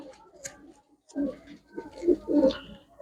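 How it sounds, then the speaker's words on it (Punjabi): Pigeons offered for sale coo in soft, low, throaty bursts, several close calls clustered toward the end, with quiet rustling between them. "ਲੋ ਬਾਈ ਜੀ ਕਬੂਤਰ"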